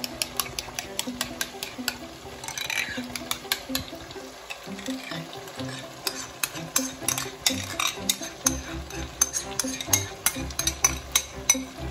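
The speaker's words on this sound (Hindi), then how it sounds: "अब हम क्या करेंगे, क्रीम को जो है बीट करके थोड़ा सा इसमें मिक्स कर देंगे।" A spoon scrapes and clinks against a pot as beaten cream is mixed into mutton karahi, in irregular bursts of metallic taps and stirring over a soft background, with no speech.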